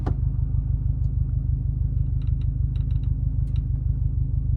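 A Subaru STI with a Group N shifter idles with the clutch released, a steady low rumbling drone with a faint intermittent rattle riding on top.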